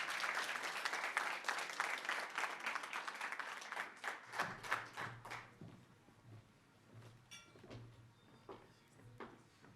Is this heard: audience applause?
yes